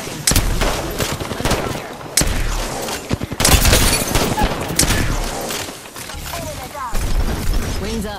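Rapid automatic gunfire in the Apex Legends battle royale video game, loud bursts and single shots crackling close by over a dense mix of game effects, with character voice lines in between.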